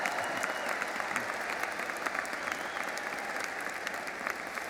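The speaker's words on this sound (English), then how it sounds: "Everyone, a round of applause for all of our 2017 graduates." Sustained applause fills a large graduation ceremony hall at Washington State University's spring 2017 commencement, dense steady clapping from a big audience with no break, a faint murmur of the crowd underneath.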